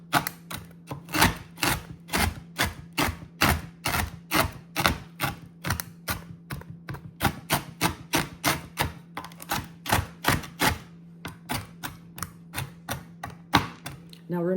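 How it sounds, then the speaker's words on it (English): Knife chopping bacon into small pieces on a cutting board, a steady series of sharp close taps with short pauses, loud and rhythmic throughout. "I'm going to just go through and just chop this bacon into some little smaller pieces"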